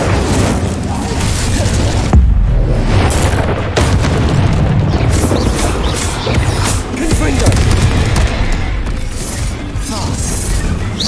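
Fire spell cast in the video game Hogwarts Legacy during a duel, heavy booming bursts and crackling blasts rolling continuously over a loud, dense game soundscape.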